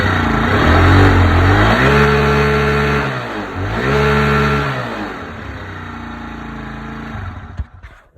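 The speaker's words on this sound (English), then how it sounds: "And that revs up nicely." A GY6 50cc Chinese scooter engine revs up twice, each rise climbing in pitch and falling back, then settles to a steady idle before cutting out, loud and close.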